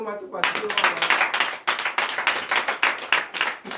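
A prayer-night congregation in Comè, Benin, breaks into brisk clapping, dense and fairly close, with a quick voice just before it starts and a vocal murmur mixed in.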